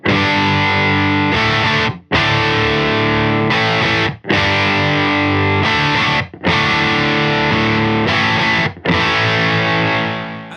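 Scythe Guitars OH19 electric guitar played through a Reeves Electro Facet VX fuzz pedal into a Marshall-style Pasadena Rose amp by Henry Amplification, with loud sustained fuzzy chords struck in a repeating pattern and brief gaps between them.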